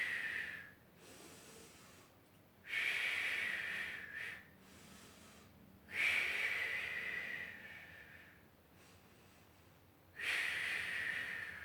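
Heavy, slow breathing during an ab workout, with long hissing inhales and exhales alternating in a steady rhythm, close and fairly loud.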